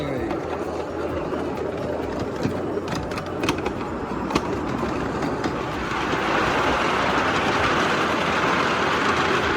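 Steady rumble and rattle of a moving train heard from on board, with clicks from the track and a rising roar partway through.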